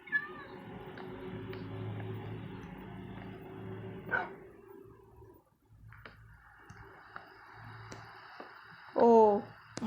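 A Minecraft cat gives a few short meows over steady game background sound, with a sharper, louder meow near the end.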